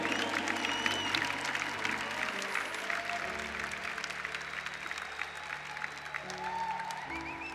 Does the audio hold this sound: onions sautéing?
no